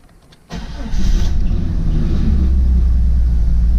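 A Jeep XJ with a freshly installed engine cranks briefly, catches and settles into a loud, rumbling idle close by.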